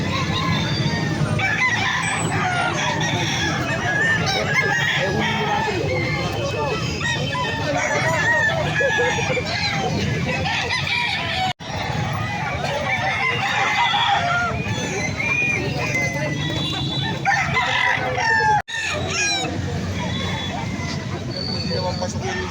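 Fighting roosters at a market in Angeles City crow and cluck continuously over a busy babble of people talking nearby. Several birds call loudly at once.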